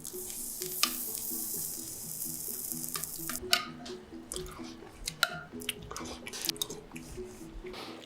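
A creamy pepper steak sauce, diluted after reducing, bubbles in a pan with soft popping and wet plops over a low simmering bed, close and fairly quiet.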